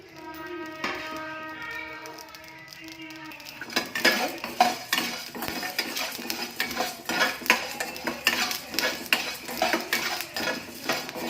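Cloves and coriander seeds dry roasted in a pan with no oil, scraped and stirred with a metal spatula in quick repeated clanks and rattles, after a brief opening tone.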